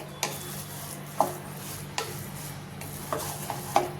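A spoon stirs cooked fada lapsi, cracked wheat sweet, in a pan, with a few sharp scraping clacks against the metal over a steady faint sizzle, no voices.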